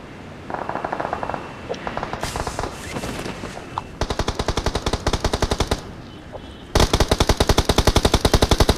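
Automatic gunfire in the BGMI battle royale game rattles out in rapid bursts, some distant and softer, others louder and closer, with short pauses between volleys.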